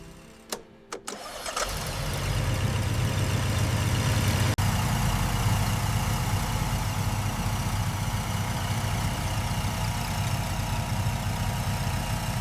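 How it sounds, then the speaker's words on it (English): A Ferrari 308 engine, revived after sitting abandoned in a garage, cranks and catches after a short pause, then settles into a steady, rumbling idle that continues evenly. "Engine responds. Now we listen for anything wrong."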